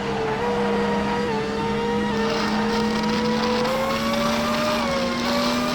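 Another player's racing car engine in a video game whines at a steady, sustained pitch, holding a smooth, loud drone with slight rises.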